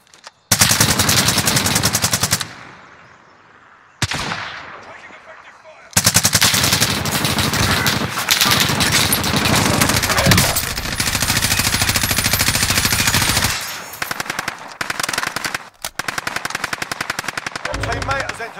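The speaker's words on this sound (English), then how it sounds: "Taking fire!" Heavy automatic gunfire from Call of Duty: Modern Warfare, loud sustained bursts with brief gaps and a few short pauses, dense and close throughout.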